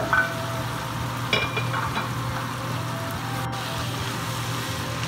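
Pan-fried eggplant pieces and chopped tomatoes going into a hot wok, a steady low sizzle with a couple of brief stirring scrapes near the start and middle, close and continuous.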